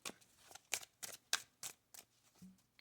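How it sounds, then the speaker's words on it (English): Tarot cards being shuffled up close, a series of about eight sharp, rhythmic riffling snaps spaced roughly a third of a second apart in a quiet room. "Shuffling these cards again."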